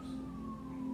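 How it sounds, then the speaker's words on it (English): A siren wails steadily at a distance, a single sustained tone that holds level and slowly drifts, with no voices over it. "I don't know if you hear these sirens in the background"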